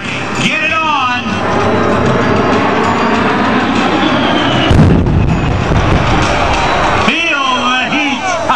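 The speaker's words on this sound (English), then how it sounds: "we're going to see one of the biggest explosions in Missouri" A huge simulated bomb-run explosion at an airshow in Branson, Missouri, bursts in with a loud, broad blast roughly midway, its roar rolling on under a crowd and an announcer's voice that sound before and after.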